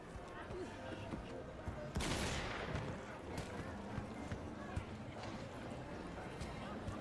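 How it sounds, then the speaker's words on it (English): Gunfire in the video game Cyberpunk 2077: bursts of shots crackle through a busy in-game soundscape, with a sharp loud volley near the two-second mark, while a person talks over it. "People are just shooting guns?"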